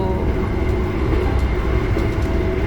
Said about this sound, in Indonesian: suara berisik rel,